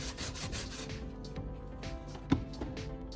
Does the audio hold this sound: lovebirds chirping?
no